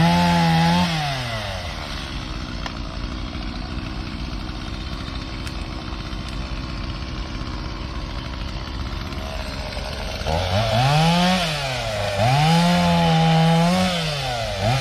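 A Stihl chainsaw revs hard at the start and again near the end, cutting wood during a fall cleanup, with a steadier lower engine drone in between; loud and close, with no talk.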